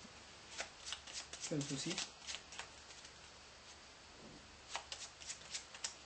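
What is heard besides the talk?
shuffling a deck of playing cards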